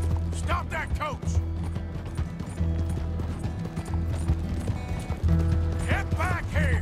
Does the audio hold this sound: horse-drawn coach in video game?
yes